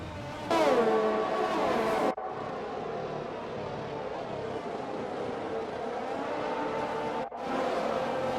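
An F1 2021 video game race car engine revs and whines in a high, sustained tone, with brief cut-outs and shifts in pitch as the car gets going again.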